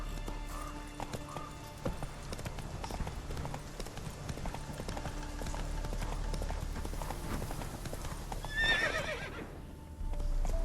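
A horse gallops in the video game The Witcher 3: Wild Hunt, its rapid clip-clop hoofbeats running steadily and close before a sharp whinny near the end.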